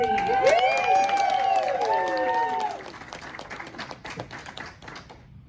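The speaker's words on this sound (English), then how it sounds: "give her a big round of applause" Award ceremony audience clapping after a retail sales winner is announced, a dense wash of applause over the whole stretch while a voice speaks or sings over the start, then thinning into scattered claps before cutting off.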